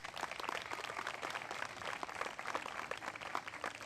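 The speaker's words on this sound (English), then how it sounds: "So give yourselves an applause and thank you so much." Audience applause at the Giralda Farms Preserve park opening in 2015, a faint, dense patter of many hands clapping continuously from a distance, without speech.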